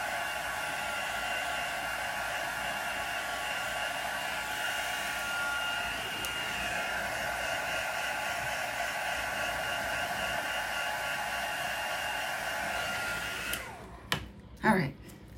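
A heat gun blows with a steady, loud whooshing hiss for most of the clip, then cuts off, followed by a few brief clunks.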